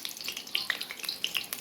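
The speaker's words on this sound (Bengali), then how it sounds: "এপাশ ওপাশ করে সুন্দর করে উল্টে পাল্টে কিছুক্ষণ পর পর দিতে হবে আর খুবই লো ফ্লেমে ভেজে নিতে হবে" Chicken samosas deep fry in oil over a very low flame, a quiet, close crackling sizzle with small popping bursts scattered through it.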